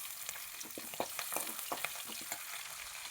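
Crushed ginger and garlic fry in oil in a pan for a Kerala-style ash gourd curry, a steady close sizzle broken by quick scraping stirs of a spoon, with no talking.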